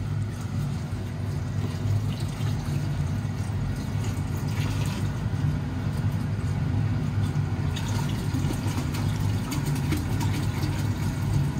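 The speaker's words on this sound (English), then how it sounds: "6 liters of distilled water here" Distilled water, about 6 liters, poured into a dilute gold refining solution: a steady, continuous watery rush lasting throughout, layered over a constant low mechanical hum.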